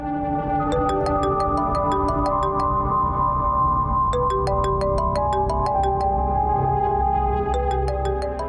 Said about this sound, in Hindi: शकीला बीबी फोन कर रही है मुझे